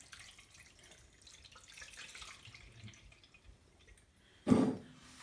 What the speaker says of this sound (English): I'm just going to strain it through one more time.